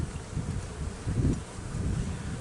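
Honey bees drone steadily in a bee yard during a March hive inspection, a continuous close hum with light wind and rustling mixed in.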